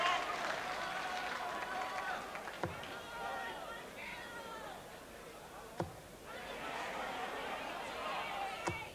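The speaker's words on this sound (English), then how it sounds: "Well, that's a record they're applauding out there." Crowd applause and cheering fill a darts hall at the 1992 BDO World Darts Championship, greeting a record 26th maximum 180 for Gregory; the noise holds steady with a commentator talking over it and a few sharp thumps.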